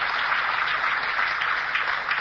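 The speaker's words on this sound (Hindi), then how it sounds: "जोरदार तालियां अपने लिए" An audience at an RCM business seminar hall claps in a steady, dense, muffled wash of applause that holds evenly for about two seconds.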